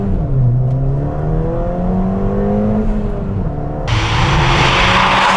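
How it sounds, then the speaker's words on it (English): A modified car's exhaust gives a loud, throaty note during an acceleration pull, climbing in pitch through the gears, with a sharp burst of broadband noise near the end. "It has the really nice throaty noise again."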